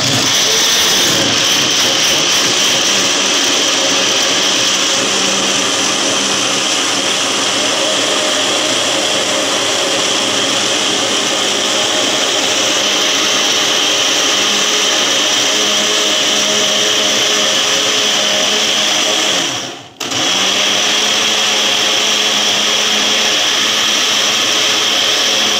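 A blender grinds lemons for lemon jam with a loud, steady, continuous whir that runs for the whole stretch, broken only by one brief dip before it resumes at full power.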